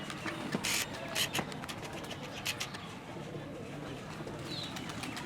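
Breeder pigeons coo in a loft, soft rolling coos repeating over a constant background hum, with a few clicks and rustles of birds moving, close and moderately quiet.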